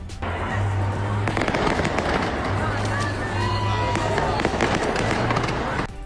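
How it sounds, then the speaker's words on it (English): A fireworks show at Navy Pier in Chicago crackles and pops continuously for several seconds over the babble and chatter of a large outdoor crowd. "It's the free fireworks show every Wednesday and Saturday night."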